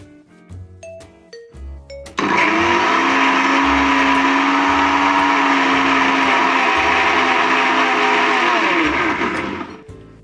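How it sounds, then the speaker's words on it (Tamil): An electric mixer grinder whirs loudly and steadily for about eight seconds as it blends shallots, coriander leaves and mint with a little water, after a few clinks of the jar being set in place. "அடுத்து ஒரு மிக்ஸி ஜாரில் சின்ன வெங்காயம், மல்லித்தலை புதினாத்தலை பாதி, கொஞ்சம் தண்ணி ஊற்றி அரைச்சிக்கலாம்."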